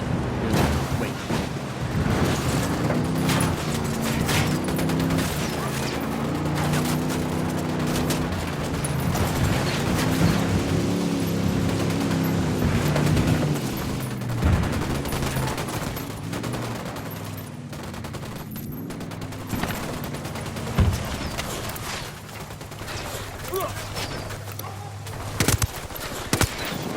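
Sustained gunfire from Ghost Recon Wildlands: dense automatic bursts and overlapping shots roll on almost without pause, loud and close, with brief gaps and a few isolated cracks toward the end.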